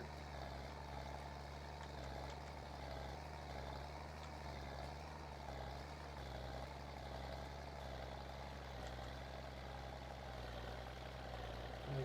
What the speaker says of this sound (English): It's like a kind of a natural sweeping turn for the tractor.